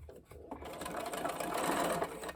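A sewing machine stitching a bucket hat, starting with a few short hesitant bursts and then running in a steady whirring drone that builds slightly in loudness, with no speech.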